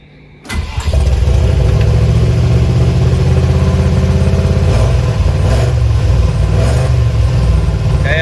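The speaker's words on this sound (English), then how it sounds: "Not sure why the tach isn't working, but the engine's running" A Land Rover Discovery engine cranks briefly, catches and settles into a steady, loud, high idle close by, running alone without talk after the start.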